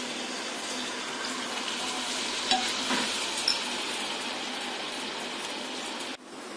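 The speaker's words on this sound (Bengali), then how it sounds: "আমি আরেকটা পিঠাও তেলের মধ্যে দিয়ে দিচ্ছি।" Flour malpua pitha batter fries in hot oil, a continuous close sizzle and crackle that stays steady before a brief clatter near the end.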